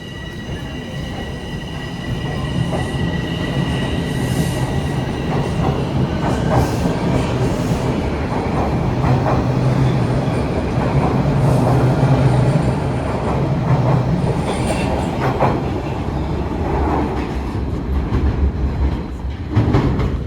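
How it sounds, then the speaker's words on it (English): A Toronto TTC subway train departs Eglinton Station, rumbling and clattering continuously at close range, with metallic squeals and a steady rolling roar that persists throughout. "It looks like I just missed the westbound train"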